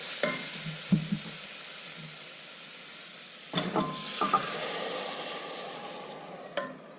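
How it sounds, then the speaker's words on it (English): Dal tipped into a hot pan and stirred while frying, a steady sizzle underneath with a few soft clinks and scraping stirs scattered through, fairly quiet and no voices. "Now we will add the dal."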